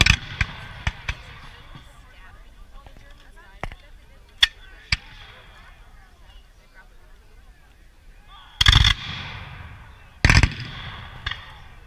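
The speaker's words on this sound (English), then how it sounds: "the men are firing in two ranks. They have that shotgun-like effect" Volunteer reenactors fire muskets in two ranks, giving two loud, sharp volleys with a shotgun-like spread, spaced a couple of seconds apart, after a run of scattered single shots and pops in an outdoor field.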